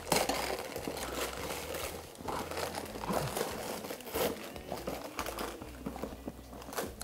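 Gift wrapping paper being crinkled and torn open up close, with rustling, crackling handling in irregular bursts and a few sharper rips, continuing throughout.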